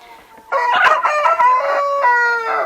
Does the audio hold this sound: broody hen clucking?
yes